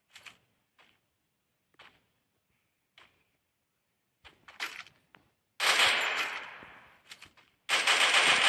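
Light machine gun in the Free Fire video game, a few scattered single shots and short taps followed by two long, loud sustained automatic bursts, close and with no talk.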